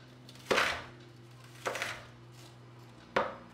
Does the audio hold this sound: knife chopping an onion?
yes